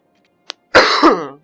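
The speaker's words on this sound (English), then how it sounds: "I'm sorry, I have to cough." A single throat-clearing cough, close and fairly loud, with one short click just before it and no talk around it.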